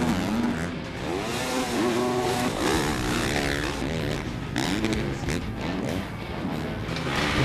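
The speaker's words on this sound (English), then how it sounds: "The 500 two-stroke cannot be matched with the rollers" A 500 two-stroke motocross motorcycle revs hard at a Red Bull Straight Rhythm race, joined by other bikes in a continuous loud droning whine that rises and falls with throttle, close and dense throughout.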